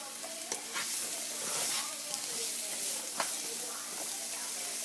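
Onions sizzling and frying in a pan for slow cooker lasagna, a steady soft hiss with occasional stirring scrapes and clicks, close and continuous.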